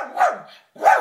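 Two sharp dog barks, close and loud, separated by a brief silence.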